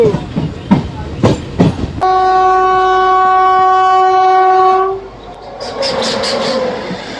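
Narasapur–Machilipatnam MEMU passenger train, heard from inside during a run: a few rhythmic wheel clacks, then a long steady loud horn blast holding for about three seconds, followed by rumbling rolling noise and more clatter.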